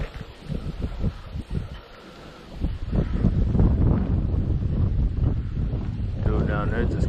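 Strong gusting wind buffets the microphone outdoors by the Potomac River, rumbling and roaring steadily, with a voice briefly audible under it.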